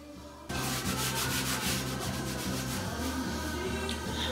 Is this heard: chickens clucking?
no